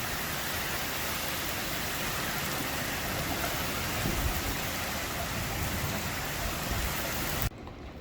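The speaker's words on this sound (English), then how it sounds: "we're under a flash flood warning, and it's raining super hard" Heavy rain pours steadily during a flash flood warning, a dense continuous roar outdoors near a flooded residential street, loud and unbroken until it cuts off abruptly near the end.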